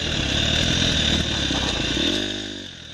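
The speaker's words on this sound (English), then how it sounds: "The motor of the 250F took my 190 pounds through these flat sections just fine." A KTM 250F dirt bike engine runs during a ride, a buzzing mid-revving drone that drops in pitch and fades as the bike slows near the end.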